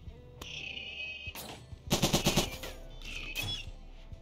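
Bursts of rapid automatic gunfire from the RimWorld video game rattle in quick strings over continuous background game sound, with a denser volley in the middle, no talk heard.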